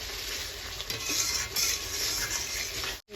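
Spices and bay leaf stir-fried in a pan for a coconut egg curry, a steady close sizzle with scraping stirs throughout, cutting off briefly near the end.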